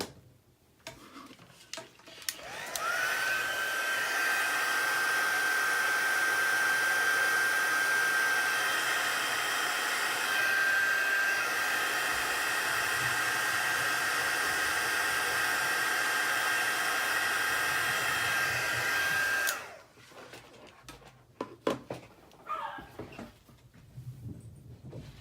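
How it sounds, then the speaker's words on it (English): A craft heat tool blows hot air in one steady, loud, continuous whirring whine with a thin tonal hum, running for about seventeen seconds before cutting off, followed by light handling noises. "I'm gonna hit this with my heat tool"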